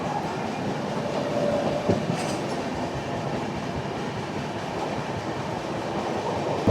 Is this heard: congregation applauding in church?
no